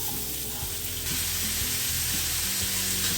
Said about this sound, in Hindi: बस ऑयल गर्म हो चुका है, अब इसमें हम डालेंगे प्याज।